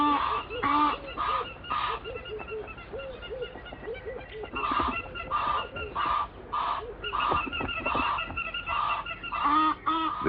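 Egyptian geese at a hammerkop nest in Africa give loud, close honking calls in repeated bursts that carry on throughout, with several birds overlapping.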